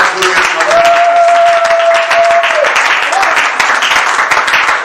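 A church congregation claps in a dense, steady burst of applause close by, with raised voices and a sustained shout of acclamation rising over the clapping for a couple of seconds.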